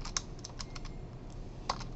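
Rapid typing on a computer keyboard during a programming lecture, with scattered soft key clicks and a couple of sharper taps over a low background hum, fairly close and moderately quiet.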